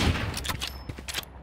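Pistol gunfire in a tactical shooter video game round involving a spike: a quick volley of sharp, crackling shots fired in rapid succession over about a second and a half, fairly close and steady in loudness.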